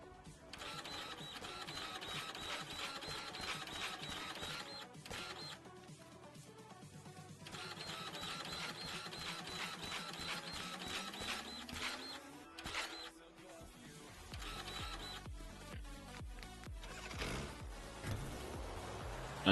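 A dirt printer machine in the video game Dinkum runs with repeated mechanical printing passes, steady whirring bursts separated by short pauses and a rising tone partway through, fairly quiet throughout.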